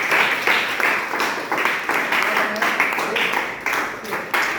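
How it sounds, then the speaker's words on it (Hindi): Small group claps in bursts for pottery makers at a clay-working demonstration, rhythmic rounds of hand claps close by with voices mixed in. "भाई तालियां बजा दो इनके लिए एक बार।"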